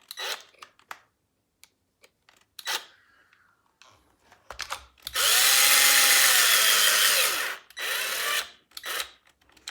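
A powerful electric screwdriver drives screws into a Traxxas Maxx RC truck kit, one long whirring burst followed by a shorter one, close and loud, with small handling clicks and rustles around it.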